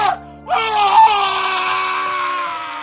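A long, loud, piercing scream in a Korean horror audio drama set in an army barracks, rising after a brief breathy lead-in and holding steady, close and alone.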